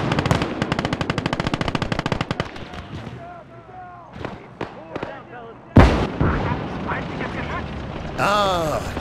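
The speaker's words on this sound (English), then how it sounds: "Feindliches MG!" Enemy machine gun fire in the World War II strategy game Call to Arms – Gates of Hell, a loud rapid burst of shots, then scattered explosions and battle noise with soldiers shouting.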